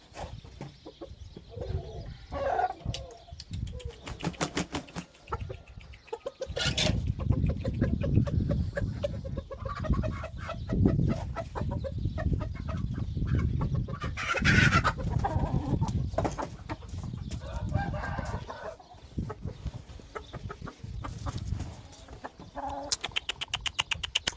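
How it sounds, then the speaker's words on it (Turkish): Aseel roosters and a hen on a farm cluck and crow almost continuously, with loud, close calls that swell and fade, plus occasional sharper squawks and no talk. "Bir tane tavuk getireyim yanına."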